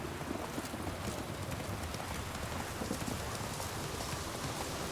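Game horse Roach gallops in The Witcher 3, a continuous rapid patter of hoofbeats mixed with a noisy rain-like wash, steady and moderately loud throughout.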